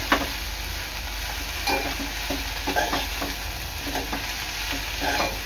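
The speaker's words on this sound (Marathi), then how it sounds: "आता पुन्हा 5 मिनिटं ही भाजी शिजवून घ्यायची आहे." Okra stir-fry, bhendi bhaji, sizzles in a pan as a spatula stirs it, a soft continuous fry broken by regular scraping strokes about every half second, with no talking.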